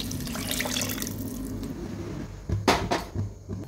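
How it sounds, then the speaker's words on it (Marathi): Water splashes and pours into a pot of spinach with turmeric, followed by a few clinks of metal utensils near the end. "त्यानंतर लागेल तसं पाणी घालूया।"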